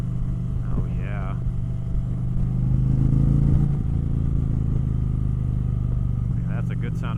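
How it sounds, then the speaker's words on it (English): A 2025 Indian Chieftain Powerplus Dark Horse motorcycle engine rumbles loudly and close, swelling into a rev before settling back to a steady low throb. "That's a good sounding bike."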